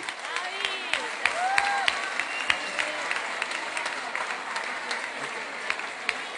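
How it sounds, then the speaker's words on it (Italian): An audience applauds the Gotti family at the San Nicola festival, sustained crowd clapping with individual sharp claps standing out and a few faint voices beneath. "io direi veramente un applauso alla famiglia Gotti"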